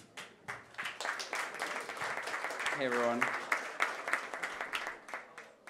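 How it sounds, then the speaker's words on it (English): Audience applause for a speaker named Vlad at a live-streamed blockchain talk, a steady spread of many hands clapping that swells and then fades, with a voice greeting the crowd over it. "Give him a round of applause, please."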